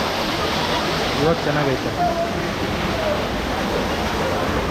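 Kallathigiri waterfall near a temple, its steady broadband roar of falling water filling the scene continuously, with a brief voice speaking over it.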